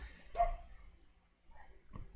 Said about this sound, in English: Dog's already barking.